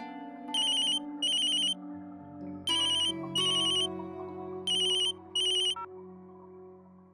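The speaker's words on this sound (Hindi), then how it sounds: "दीदी माँ का फोन है।" A phone ringtone for an incoming call rings in a domestic drama scene, sounding in three pairs of bright electronic bursts over a soft musical underscore, fairly close and clear, with no talking.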